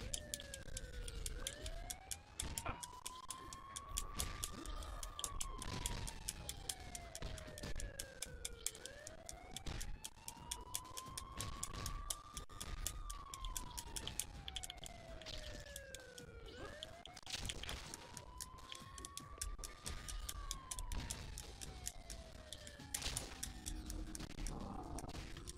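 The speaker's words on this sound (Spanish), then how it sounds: "sigue sonando la sirena" Police siren in the Spider-Man 2 video game, a wailing tone rising and falling in long repeating sweeps over steady traffic and city noise, fairly quiet in the mix.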